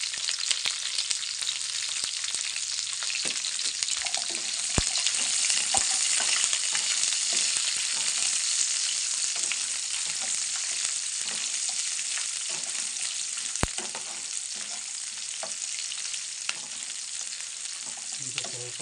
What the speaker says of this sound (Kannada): ಸ್ವಲ್ಪ ಕೆಂಪು ಆಗುವವರೆಗೂ ನಮಗೆ ಲೋ ಫ್ಲೇಮ್ನಲ್ಲಿ ಹಾಕಿ